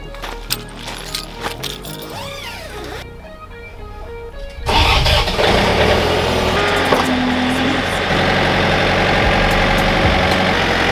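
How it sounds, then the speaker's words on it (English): A tractor engine cranks and catches, then settles into a loud, steady rumbling idle that continues to the end. "So I'm about to go fire up the tractor, grab some wood."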